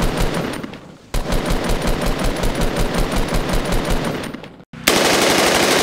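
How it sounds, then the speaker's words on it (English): A replica fully automatic assault rifle fires in long, loud, rapid bursts. The rattle is fast and evenly spaced, cuts off briefly twice, then resumes, with no voices. "next up we have the fully automatic assault rifle."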